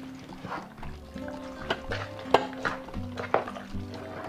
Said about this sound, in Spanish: Voy a revolver nuevamente.